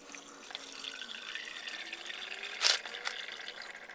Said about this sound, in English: I've already got some cold water started right here